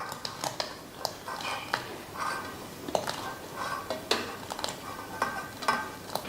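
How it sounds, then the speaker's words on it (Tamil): Ragi dough balls dropped one by one into a pot of boiling water, with clinks of a spoon and pot and bubbling under irregular splashes, close by and with no talk. "இப்போ நம்ம பாருங்கள், ரெடி பண்ணி வச்சுருக்க உருண்டையை தண்ணியில் போட்டு வேக விட்டுறலாம்."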